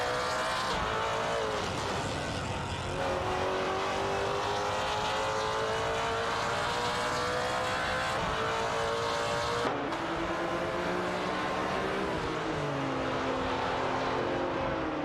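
Race cars in a video game battle closely, an Aston Martin Vantage GT4 and a Genesis G55 Super Cup among them, their engines droning loud and steady. Several overlapping engine tones rise and fall in pitch as the cars shift gears.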